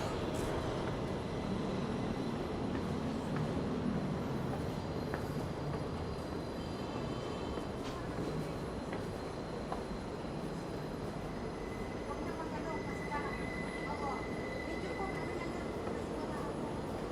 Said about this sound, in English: All right, there's a train coming. The N train.